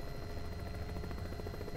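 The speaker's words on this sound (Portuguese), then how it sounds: "Eu tava voando com o helicóptero, ele foi lá e atacou o helicóptero." Helicopter in the video game Poppy Playtime 3, a steady low rotor and engine drone that holds at an even, fairly loud level throughout without a break.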